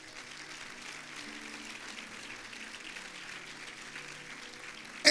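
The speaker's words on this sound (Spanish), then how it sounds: "Dale un fuerte aplauso al Señor." Congregation in a church applauding, a faint, steady wash of clapping from a crowd lasting several seconds with no break.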